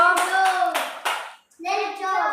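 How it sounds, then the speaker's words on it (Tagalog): Children in a classroom clap together in a short burst of quick, close hand claps, which stop briefly and then resume. "Yay! Palakpak!"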